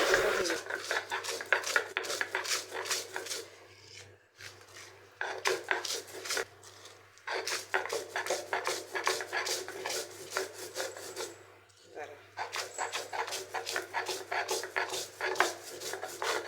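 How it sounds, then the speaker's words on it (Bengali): Dried chillies and salt are ground on a flat stone slab, giving repeated rhythmic rasping strokes in several bursts separated by brief pauses, close and fairly loud. "পাটায় শুকনো মরিচ লবণ দিয়ে প্রথমে বেটে নিব"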